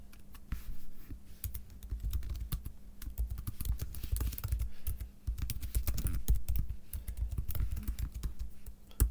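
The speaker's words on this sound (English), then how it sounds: "watch what I'm typing" Steady close typing on a computer keyboard during a lecture, a continuous patter of quick key clicks with occasional louder strikes, no talk over it.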